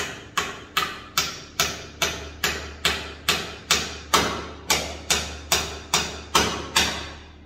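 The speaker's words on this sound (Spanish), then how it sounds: "Se le pone clavos para madera." Steady hammer blows drive wood nails into a handmade kitchen cupboard, about fifteen sharp, evenly spaced thuds in a row, close and loud with no talking.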